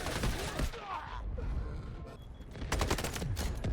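Rifle fire from an M7 in the shooter game Delta Force, with bursts of rapid shots at a decent distance that start densely, thin out mid-clip, then pick up again toward the end, with some voice underneath.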